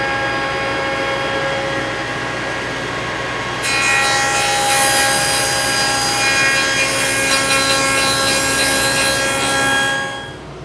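A power tool widens a 2.5-inch groove in the bottom of a cedar potting bench leg, giving a loud, continuous whining and rasping cut that grows harsher partway through and then stops near the end.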